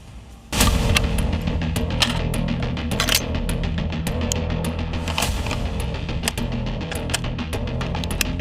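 An AK-203 rifle fires in rapid bursts of sharp, loud shots that continue densely for about eight seconds over a rumbling background.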